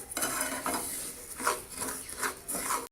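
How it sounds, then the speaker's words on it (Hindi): A spoon stirs peanut chikki mixture in a pan over low heat, making repeated scraping and clinking strokes in a steady rhythm, close and clear with no talk. "आप ऐसे आस्ता आस्ता चम्मच हिलाते जाएं।"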